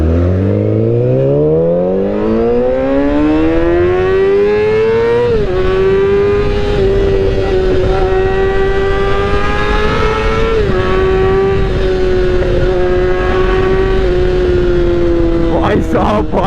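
Yamaha R6 superbike, a ten-year-old model, revving hard and loud up to a sustained high-pitched scream that holds steady, with brief dips and a sharp blip near the end.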